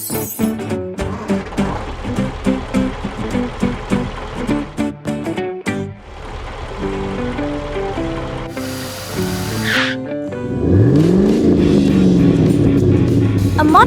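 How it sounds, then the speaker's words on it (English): A modified car speeds in from the distance, its engine roar swelling loud and close over cartoon-style background music in the final seconds. "A modified car speeds in."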